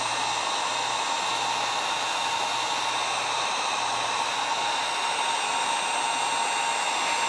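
Heat gun running on low to shrink heat-shrink tubing over the wires of a Ryobi 12-volt battery charger, a constant close airy blowing hum with a faint steady whine, unbroken for the whole stretch.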